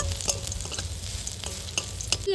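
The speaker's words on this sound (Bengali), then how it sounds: "রসুন থেঁতো করে নিয়েছি দিয়ে দেব এইভাবে পাঁচ থেকে দশ সেকেন্ড ভালো করে ভেজে নেব" Crushed garlic frying in a pan for a Bengali telakucha (ivy gourd) dish gives a steady close sizzle with a few sharp spatula scrapes against the pan, no voices.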